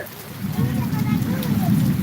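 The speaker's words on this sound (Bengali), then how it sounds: "বৃষ্টি পড়তেছে জোরে বৃষ্টি পড়তেছে" A steady downpour of heavy rain hisses and patters close by, dense and unbroken, with speech mixed in.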